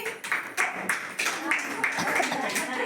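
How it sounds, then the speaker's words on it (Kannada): A group of parents and children at an anganwadi activity day clap loudly together in an uneven, steady patter of hand claps that continues throughout, fairly close. "ಚಪ್ಪಾಳೆ ಹಾಕಿ ಎಲ್ಲರೂ ಜೋರಾಗಿ"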